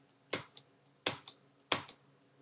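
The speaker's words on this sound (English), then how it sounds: "So I'm just going to click them and hit enter." Computer keys are clicked three times at an even pace, each a crisp, close tap followed by a softer secondary click, with quiet pauses between.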